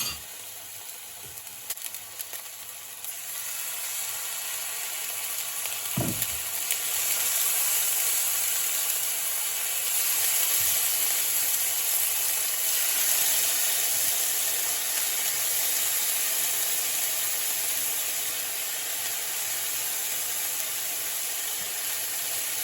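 Steak sizzling in a pot of hot oil with a sprig of thyme and a garlic clove, a steady, loud frying hiss that swells after a brief thump as the meat goes in, continuing alone without talk.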